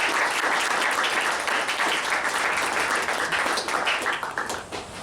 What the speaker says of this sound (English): So if we could still give Mike a round of applause for everything he did.